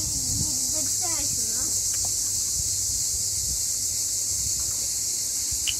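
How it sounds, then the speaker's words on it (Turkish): Crickets chirping at night on a terrace, a dense, steady high chirring that fills the whole stretch, with a brief voice heard faintly early on. "Şu cırcır böcekleri de acayip bloklarda ses yapıyor, fark ettim."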